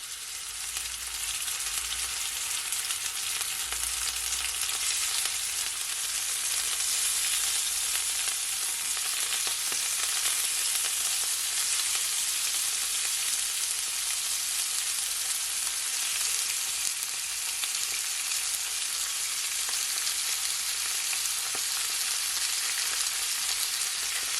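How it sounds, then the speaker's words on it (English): Steak sizzling in just over a tablespoon of olive oil in a pot for Jamaican pepper steak, a loud, continuous hiss and crackle that runs unbroken throughout with no voices. "So now I'm just gonna add my steak."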